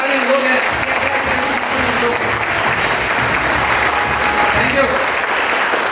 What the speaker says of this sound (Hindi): अपने लिए एक बार जोरदार तालियां